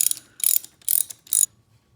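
A bolt is turned in with rapid ratcheting clicks while installing a 60cc big bore kit on a Yamaha PW50 dirt bike, heard as four short, close bursts evenly spaced.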